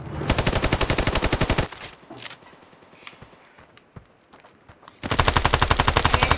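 Automatic rifle fire in the mobile shooter Standoff, with two long rapid bursts at the start and end, loud and close, and quieter scattered shots and footsteps between them.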